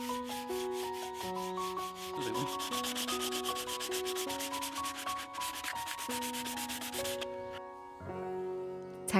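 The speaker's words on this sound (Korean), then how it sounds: "꼼꼼하게 사포질로 마무리해줍니다." Sandpaper rubs over the surface of a large wooden bench about six by four metres, a steady rasping scrub heard under tonal background music.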